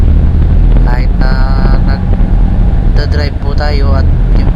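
Loud, constant wind roar buffets the microphone on a motorcycle ride under hot midday sun on the way to Makati, with someone talking over the rush.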